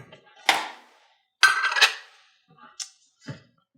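A small metal roasting pan is pulled out and handled in a home kitchen, giving a few sharp clanks and scrapes in separate bursts with quiet gaps between them, close to the listener, and no one speaking.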